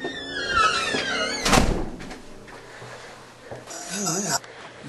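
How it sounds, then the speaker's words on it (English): A door in an abandoned house shuts with a single heavy thunk, followed by quieter shuffling and creaks while people speak. "Close the door."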